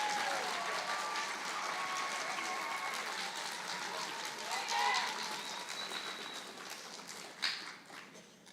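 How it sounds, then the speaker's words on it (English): An audience at a percussion concert applauds, a dense, moderately distant wash of clapping that slowly thins toward the end, with a few louder claps and scattered voices. "So one more round of applause for Sand"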